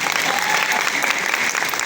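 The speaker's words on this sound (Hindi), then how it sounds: "ताली तो बजा दो" A live audience claps briefly at a product presentation about vitamin D gummies, dense, even applause filling the whole moment without pause.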